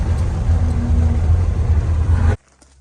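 A truck engine idles steadily after a carburetor swap, a loud, close, even low rumble with a faint whine above it, running alone for over two seconds before it cuts off abruptly into near silence.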